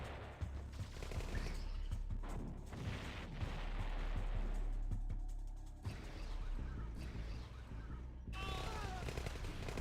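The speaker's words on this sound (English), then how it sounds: "Nice use of artillery." Artillery and gunfire in the OpenRA real-time strategy game, dense bursts of booms and rapid shots rolling continuously with short gaps, under lively tournament commentary.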